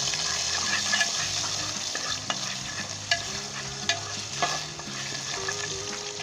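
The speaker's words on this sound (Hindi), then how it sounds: "लहसुन को अच्छे तरीके से आपने लाइट गोल्डन ब्राउन कर लेना है" Garlic fries in ghee with a soft, continuous sizzle, punctuated by a few sharp clinks and scrapes of a spoon stirring the pan.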